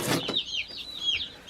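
Newly delivered male chicks from a hatchery chirp as their shipping box is opened: a brief rustle of the box, then a run of thin, rising peeps close by.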